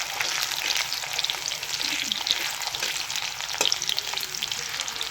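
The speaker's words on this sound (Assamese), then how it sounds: "অলপ তেলটো মই বেছিকৈ দিলোঁ আজি আলুখিনি ফ্ৰাই কৰিবলৈ।" Potatoes fry in a generous amount of oil, a steady close hiss and crackle with an occasional utensil knock, continuous and without speech.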